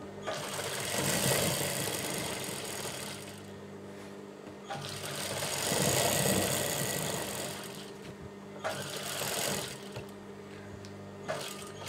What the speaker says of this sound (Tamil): ரெண்டு பக்கமும் தையல் போடுங்க.